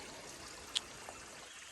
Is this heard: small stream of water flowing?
yes